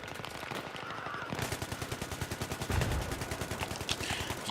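Rapid continuous automatic fire from an AK rifle in Battlefield 3 crackles in a steady fast rhythm through the whole stretch, moderately loud within game ambience.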